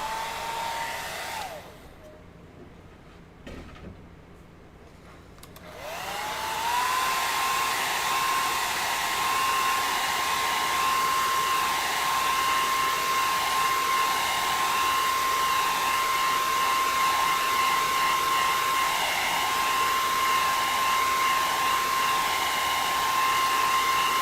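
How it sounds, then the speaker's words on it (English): A hair dryer blows on glue drying on a handmade Colonial Marine helmet: a steady, loud whirring hum with a constant whine, briefly cut off early on, then running continuously and evenly for the rest of the time. "Let me get a hair dryer. Let me speed this up."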